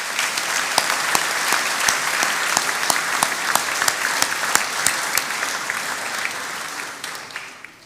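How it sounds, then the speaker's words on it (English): Sustained applause from a school reunion assembly crowd honouring a retiring teacher, dense and steady clapping from many hands that carries on for several seconds before fading out at the end. "let's give her a round of applause."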